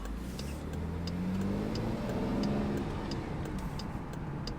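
A modded Jeep engine rumbles and revs up and down nearby at night, with faint ticking clicks over the steady drone; no one speaks.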